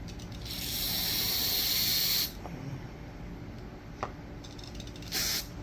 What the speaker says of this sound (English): See how it's spraying all that dirt out of there?